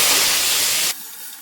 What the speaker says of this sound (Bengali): চিংড়ি মাছটা দিয়ে দিচ্ছি চিংড়ি মাছটা ভালো করে ভেজে নেব